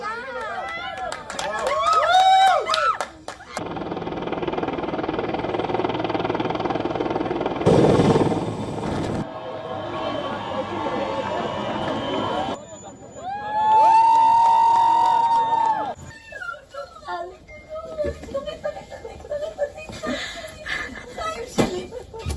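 A crowd of families cheers and cries out as freed Israeli hostages are handed over to the Israeli military after transport from Gaza by the Red Cross, heard in loud bursts mixed with chatter and speaking voices.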